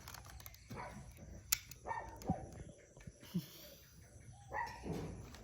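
A dog barks at cattle walking past a house in rural Thailand, giving a few scattered, moderately distant barks and whimpers over a low background hum.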